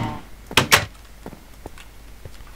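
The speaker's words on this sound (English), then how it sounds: "Wrong door again." Wooden door in a modded Minecraft world, a quick pair of bright clacks from the opening, followed by a few faint taps and footsteps.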